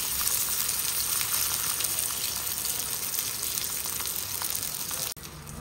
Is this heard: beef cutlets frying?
yes